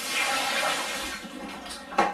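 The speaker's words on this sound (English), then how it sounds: "I just want to give it a final rinse, just to make sure everything is off before we add the juice." Water rinsing out a sterilised home wine-making container from a wine kit, a steady broadband splash and gush with a brief sharper splash near the end.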